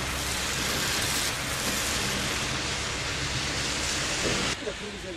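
Rain pours over Bishkek's Central Square in Kyrgyzstan, a loud, broad, constant wash of noise that stays steady and then eases slightly near the end.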